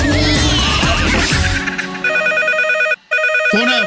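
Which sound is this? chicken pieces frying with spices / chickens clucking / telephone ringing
telephone ringing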